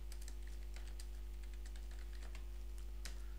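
Linux chmod command typed on a computer keyboard: quiet, close, irregular clicking keystrokes in quick bursts over a steady low hum, with one sharper key tap near the end.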